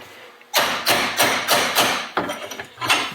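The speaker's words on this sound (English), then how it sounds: "I'm into the spindle now, just a little tap, and that bearing should pop right out of there." A hammer taps a bearing out of a lawn mower deck spindle with about seven sharp metallic knocks, close and fairly evenly spaced, alone with no talk.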